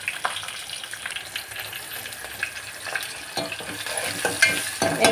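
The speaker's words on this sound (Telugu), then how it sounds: "ఇది బీరకాయ పోపు" Mustard seeds, cumin, curry leaves and green chillies tempering in hot oil for ridge gourd dal, a steady close crackling sizzle with stirring, growing a little louder toward the end.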